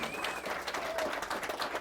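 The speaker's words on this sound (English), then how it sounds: "big round of applause for Sam Dickey" A small group claps steadily in a brief burst of applause, with some voices mixed in.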